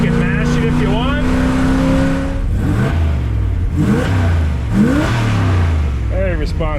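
A 1965 Plymouth Fury wagon accelerating hard, its engine note climbing and shifting through repeated revving sweeps, loud and close from inside the car, with a voice talking over the engine in stretches.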